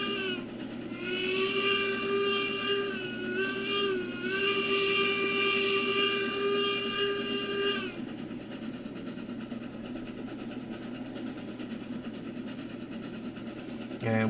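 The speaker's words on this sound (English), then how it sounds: "And give a whistle here coming through the town." A steam locomotive whistle in the railroad game Railroads Online blows a long, loud, sustained wailing tone with a brief dip midway, over a steady rumble of the moving train that carries on after the whistle stops.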